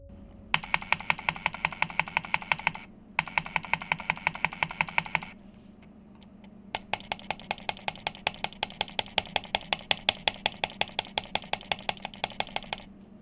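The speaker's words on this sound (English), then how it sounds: "Here is a back-to-back playthrough of left clicks and right clicks." Computer mouse clicking, left and right buttons in turn: rapid, steady runs of sharp close clicks in three bursts separated by short pauses, with no talking.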